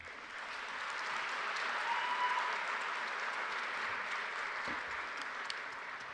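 Steady audience applause at a graduation ceremony, a dense wash of many hands clapping that rises and holds at moderate loudness for several seconds without talk.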